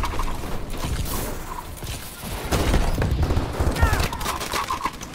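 Gunfire in Call of Duty Advanced Warfare, Gun Game mode: bursts of rapid shots and mechanical clatter, fairly loud and busy, with a voice talking over parts of it.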